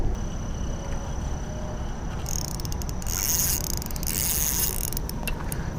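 Fishing reel drag being tightened outdoors, a run of quick ratchet clicks in bursts over steady background noise, fairly close.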